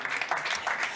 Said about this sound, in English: give him a welcome round of applause on stage